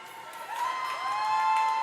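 Fans cheering at the finish of a swimming race at an indoor pool meet, a diffuse crowd roar with whistles and shouts that swells steadily, no voices standing out.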